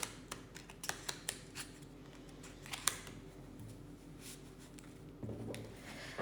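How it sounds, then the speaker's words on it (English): Tarot cards being shuffled, a run of light, irregular clicks and riffling taps, quiet and close, with a brief louder patter near the end and no talking. "let's just shuffle a little bit more and then clear the deck"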